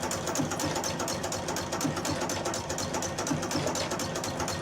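A sewing machine fitted with a flower foot runs continuously while stitching, giving a steady, fast mechanical whirr with rapid rhythmic needle ticking and no talking over it.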